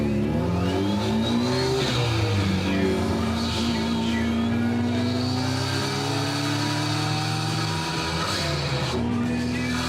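A race car's engine revs continuously on a street ride, its rising and falling pitch loud and close throughout, with no voices over it.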